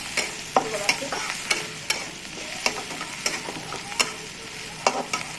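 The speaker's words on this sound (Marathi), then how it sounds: "आपण आता मसाला घालूया आणि म्हणून मी एकत्र करते" A spoon stirs masala into cabbage kachori filling in a sizzling pan, sharp scraping clacks landing in an irregular rhythm over a soft, continuous frying hiss.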